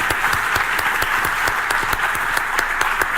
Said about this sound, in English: Let's put our hands of applause.